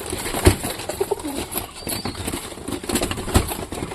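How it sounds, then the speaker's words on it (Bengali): Satin pigeons at a loft cooing softly while wings flap and clap in short bursts, close by with a busy rustling background and no speech. "দেখো সব কবুতর বের হয়ে গেছে"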